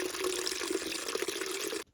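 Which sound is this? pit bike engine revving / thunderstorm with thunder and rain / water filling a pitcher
water filling a pitcher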